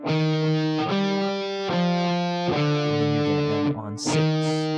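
Electric guitar plays the opening phrase of We Lift Your Name, repeated picked notes and chords in a steady rhythm with a slightly driven tone, ending in a quick scrape of the strings.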